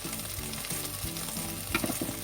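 Chicken wings sizzle inside a hot Lidl air fryer, a faint steady crackle of frying fat with a few soft clatters close by.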